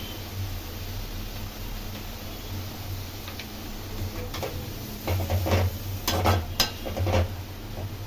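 Carrot and cabbage sautéing in a pan with salt, a soft steady sizzle under scattered scraping and clinking of a spoon stirring against the pan, busier toward the end.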